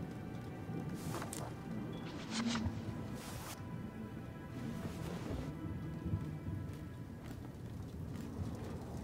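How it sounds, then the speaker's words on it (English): A thunderstorm with rain in the video game Twelve Minutes: steady rain hiss with a few sharp bright cracks and crashes early on, then continuing rainfall, no talk. "Wasn't expecting a storm tonight."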